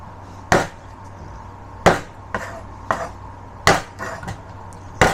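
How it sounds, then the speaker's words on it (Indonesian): Garlic cloves are smashed with the flat of a blade on a board: six sharp, loud thwacks at uneven intervals, each with a short crisp knock. "ini si bawang putihnya akan saya geprek"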